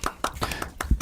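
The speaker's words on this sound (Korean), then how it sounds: "박수" A few people clap for a guest joining a podcast recording. The claps are brief, irregular and close, about five sharp hits with no talk over them.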